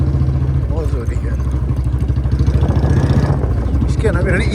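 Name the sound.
Royal Enfield Bullet motorcycle engine running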